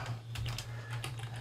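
A few quick keystrokes on a computer keyboard while writing Arduino code, ending with a press of the enter key; soft, close clicks over a low electrical hum.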